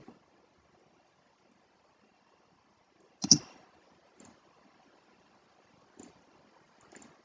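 Computer mouse clicks in SolidWorks come as a few sparse, sharp clicks, one louder click near the middle followed by fainter ones, close up in an otherwise quiet room.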